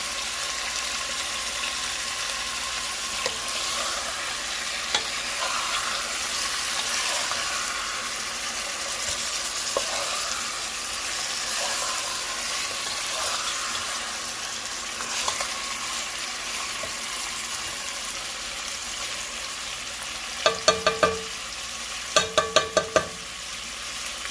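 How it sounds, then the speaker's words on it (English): Oxtails sear and get stirred in a pot, giving a steady broadband sizzle throughout with occasional scraping, and a few sharp clatters near the end, close and fairly quiet. "So you just want to stir them up so that they can get brown all over. We're just searing them"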